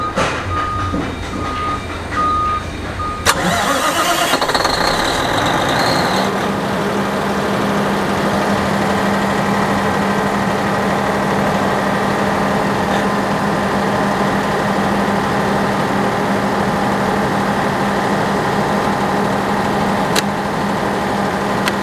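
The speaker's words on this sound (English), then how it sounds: "Okay, I will start the generator." A generator engine starts with a brief rising crank, then settles into a steady, loud running drone with a constant low hum that continues unbroken to the end.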